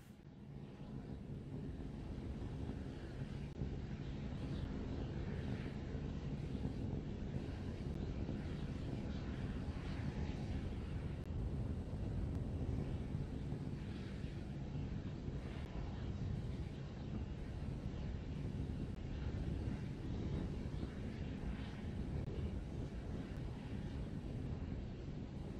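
A SpaceX Starship 15 rocket climbing past eight kilometers in flight produces a continuous, distant low roar and rumble that holds steady with slight fluctuations for the whole stretch.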